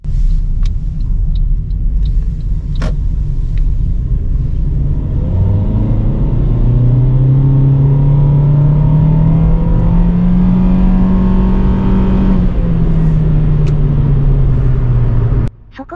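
Corolla Fielder compact car pulling hard on an open road, its engine droning steadily and climbing in pitch through a long gear, then dropping briefly as it shifts, loud and close from inside the cabin.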